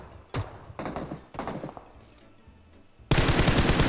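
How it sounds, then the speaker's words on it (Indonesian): Bursts of automatic gunfire from a bot in a shooter video game, several rapid volleys separated by short pauses, ending in a loud, dense continuous stream of shots. "Tembakan bot dia."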